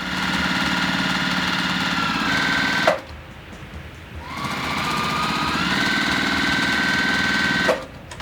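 Pieces of quilt fabric for half-square triangles are fed through a sewing machine that runs in loud, fast, steady bursts, with a brief pause and a quieter restart before it runs on.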